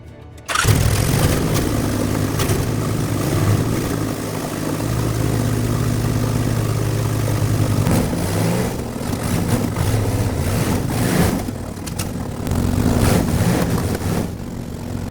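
A Honda VTX 1800 motorcycle starts and keeps running to warm up after a coolant replacement, a loud, steady, close engine drone that holds with small shifts in pitch, no talking.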